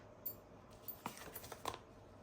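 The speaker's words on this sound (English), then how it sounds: "So let's just trim that down." A paper trimmer cuts cardstock for a handmade card, giving a few short, close, dry clicks and brief scraping slides in a quiet room, without any speech.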